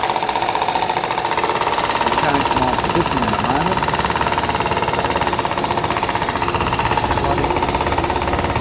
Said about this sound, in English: Nice jackhammer going on in the background.